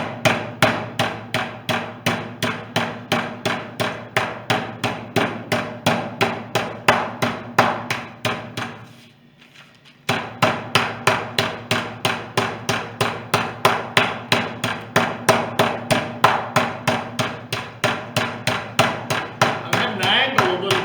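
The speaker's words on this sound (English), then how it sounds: "you take your meat tenderizer and you pound it until it's about a ½ inch thick" A meat tenderizer pounds chicken flat inside a sealed ziplock bag, producing rapid, evenly spaced thuds that stop briefly for about two seconds and then resume at the same steady pace, with no talking.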